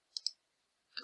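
A computer mouse gives a quick, crisp double-click in a quiet room, with another single click following a moment later.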